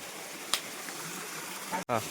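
A waterfall reached after a slippery uphill climb gives a steady, broad rushing roar through the whole stretch, with someone talking over it and a brief sharp knock partway in.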